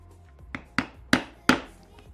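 A mallet strikes a 1.5 mm punch four times, driving stitching holes into heavy 8–9 ounce vegetable-tanned leather for a bowler hat, making close, sharp knocks at a slightly quickening pace.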